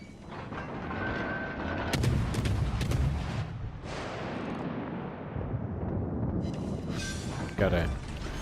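A Kagero destroyer in World of Warships fires naval guns in several heavy booming salvos spread over several seconds, with rumbling game ambience and someone talking over it.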